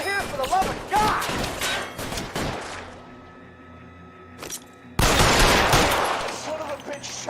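Shootout gunfire in a video game, with a burst of close, sharp shots and a voice over them at the start, a lull with lingering ringing, then a loud, dense volley erupting again near the end.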